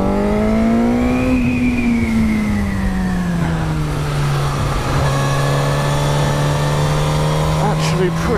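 A Suzuki GSX-S1000 motorcycle engine on the move, a steady loud drone that rises in pitch, eases back down and holds, with a voice speaking over the engine note.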